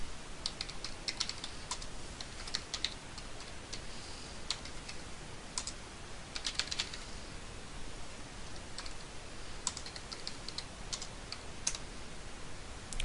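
Steady computer keyboard typing runs throughout while a network routing configuration is entered, with dense quick keystrokes and occasional louder clacks close to the mic, under a faint background hiss and no talking.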